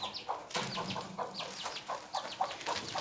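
Chickens cluck and chatter steadily in a coop, several birds close by with overlapping short calls.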